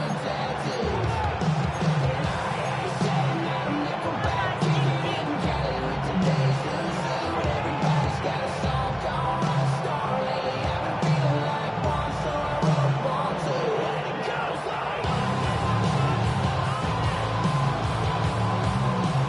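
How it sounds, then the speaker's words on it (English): Football stadium crowd noise during a late-game timeout, a dense, continuous roar of many voices that stays loud and fills the whole stretch, with a slight rise toward the end. "Crowd noise rises."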